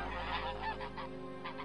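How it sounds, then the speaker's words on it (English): A flock of geese honks repeatedly in a dense, overlapping chorus outdoors on a street, steady and fairly close with no talking. "The geese hissing, honking, doing that thing with their necks"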